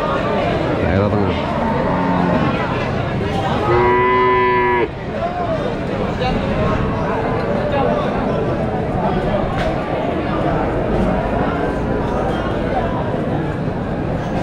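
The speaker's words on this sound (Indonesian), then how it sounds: "Ini sapi betina kan." A cow moos once, a drawn-out low call lasting a second or two, amid constant crowd chatter and nearby talking at the livestock market in Besuki, Situbondo, East Java.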